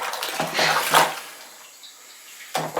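Cherry wine must being stirred in a bucket, with sloshing, splashing bursts of liquid separated by a brief quiet pause.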